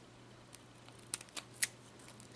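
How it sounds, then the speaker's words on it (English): Scissors snip through nail art tape for a glitter and leather manicure, giving a few quiet, crisp cuts spaced apart over a low steady hum, with no talking. "I'm going to take my scissors"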